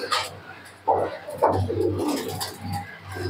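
Pigeons being readied for a high-flying tournament coo and call in soft bursts from close by, with low rumbling hum beneath and a few brief murmurs among the calls.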